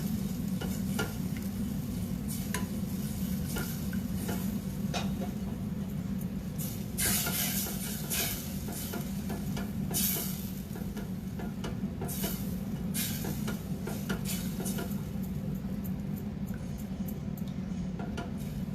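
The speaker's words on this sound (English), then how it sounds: "If you forget to stir this yogurt, that is split, so keep stirring." A spoon stirring yogurt gravy for gatte ki sabji as it cooks in a pan, steady close sizzle and bubbling with repeated scraping strokes across the pan, no voices.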